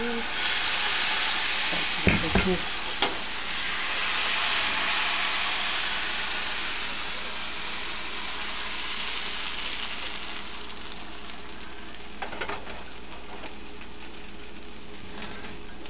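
Pati shapta pitha batter sizzles in a frying pan on medium-high heat, making a steady close hiss that slowly fades, with a couple of sharp utensil clicks.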